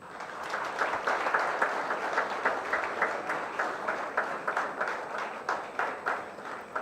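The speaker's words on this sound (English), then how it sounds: "Round of applause, please." Steady applause from an audience at a commencement ceremony, a dense, sustained patter of many hands clapping throughout without fading.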